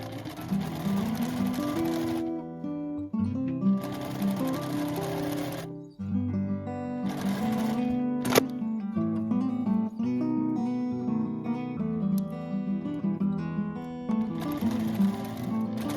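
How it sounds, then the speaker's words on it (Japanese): A sewing machine stitches steadily along the edge of quilt batting while piecing a scrap-fabric tote bag, its needle running in continuous bursts with brief pauses, close and clear with no talking. "キルト綿の際を縫います。"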